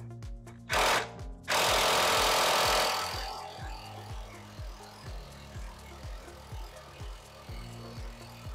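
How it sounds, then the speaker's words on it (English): A Harbor Freight impact wrench works on a 24 mm suspension bolt during a rear shock replacement on a Mercedes R-Class or ML with air suspension: a couple of short loud bursts, one long rattling burst, then rapid rhythmic hammering pulses close by. "Let's see if it comes out with the Harbor Freight impact."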